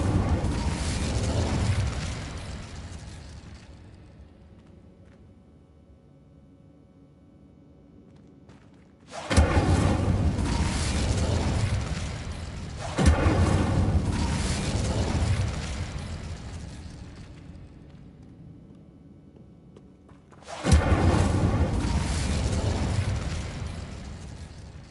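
Spell effects from a Harry Potter video game, including an Incendio fire spell: several heavy whooshing bursts of flame, each hitting hard and fading slowly, with quiet gaps between them.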